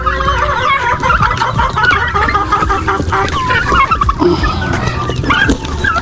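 A flock of about eighteen farm turkeys gobbles and clucks in overlapping bursts, fairly close and loud, with scattered chicken and duck calls mixed in.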